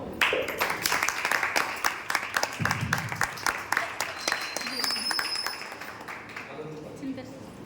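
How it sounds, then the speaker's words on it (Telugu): Church congregation in Papanpet clapping together, a rapid, uneven patter of many hands, steady and fairly close, with a few voices and clinking sounds mixed in, gradually easing off. "చప్పట్లు కొడదాము"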